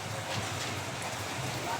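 Rain falls steadily outdoors as a continuous broadband hiss of drops on surfaces. It is moderately close and even throughout, with a voice faintly underneath.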